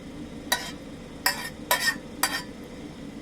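Sautéed spinach, asparagus and zucchini heaped onto a pizza crust, four short soft scraping, sizzling bursts spaced about a second apart over a quiet background.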